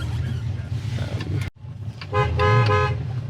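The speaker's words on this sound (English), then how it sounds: "There's your horn." A 1965 Mustang coupe's horn sounds in short repeated toots over a steady engine rumble, after a brief cut in the noise.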